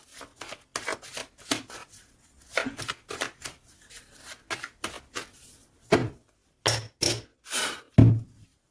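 Oracle cards shuffled by hand in quick riffling bursts, close and crisp, with brief pauses between bursts and a final cut of the deck, no speech.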